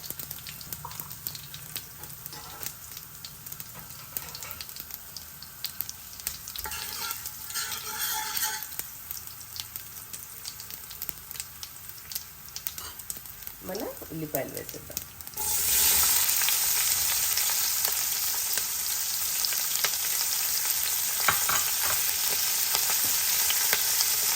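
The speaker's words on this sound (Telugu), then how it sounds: "సాంబార్లో వెల్లుల్లిపాయలు వేస్తే బాగుంటాయి వేయండి కొద్దిగా ఇంగువ" Garlic and asafoetida frying in hot oil for sambar, a steady crackling sizzle that jumps louder partway through and continues with stirring noises, with no talking.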